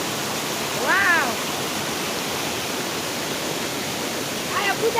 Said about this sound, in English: Really enjoy the waterfalls.